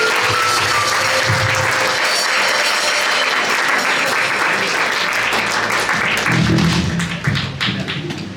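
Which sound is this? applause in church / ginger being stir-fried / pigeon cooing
applause in church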